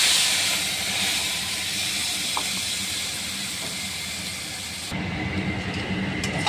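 Ground poppy seed, ginger, cumin and chilli paste cooks in a pan, giving a loud, steady sizzling hiss that eases slightly partway through.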